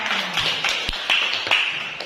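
A class of students clapping hands in a lesson on the prophets, a few sharp, irregular claps standing out over steady background noise.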